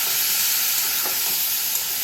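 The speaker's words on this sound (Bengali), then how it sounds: "সামান্য একটু জল দিয়ে দেবো, দিয়ে একটু নেড়ে নেবো, নাহলে কিন্তু ভিতরে ধরে যাবে।" Ghugni masala made with raw green peas sizzles loudly after a splash of water, a dense, steady hiss and bubbling close by with faint stirring beneath, no voices over it.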